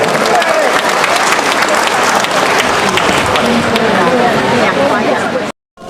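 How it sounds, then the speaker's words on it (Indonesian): At a Samarinda community foundation gathering, a crowd gives lively applause for Bapak Haji Yos Sutomo. The clapping is loud and continuous, mixed with crowd murmur, then cuts off abruptly near the end. "Mari sekali kita berikan tepuk tangan yang meriah untuk Bapak Haji Yos Sutomo"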